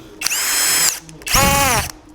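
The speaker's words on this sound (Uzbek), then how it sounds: "Perforator funksiyasi bor" A 4-in-1 cordless tool set's drill running in hammer drill mode gives two loud, close whining bursts of about two-thirds of a second each, with a short pause between them and the motor pitch rising and falling.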